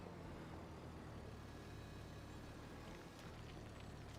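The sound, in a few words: tractor engine under heavy load, from video game Farming Simulator 25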